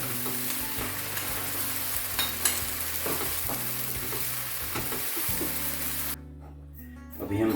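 Chicken cooks in cream and yogurt in a pan, giving a continuous close sizzle with scraping stirring strokes throughout. The sound drops away briefly near the end, then returns.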